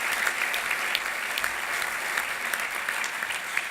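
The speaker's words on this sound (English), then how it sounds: "So I have a round of applause for not only our servers, but those who grew our food this morning" Steady audience applause at a morning food event honoring servers and the farmers who grew the meal, a dense even patter of many hands clapping with no voices over it.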